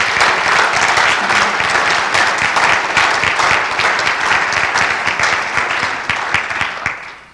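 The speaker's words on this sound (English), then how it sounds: "please join me in applauding the next generation of child development professionals" Loud, dense applause from an audience at a college signing day ceremony, steady and continuous throughout before tapering off at the end.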